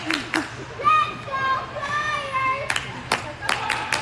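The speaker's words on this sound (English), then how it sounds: "That little cheer here." Spectators at a U13 youth ice hockey game give a small cheer with a few scattered hand claps, mixed with children's and adults' voices in an echoing arena.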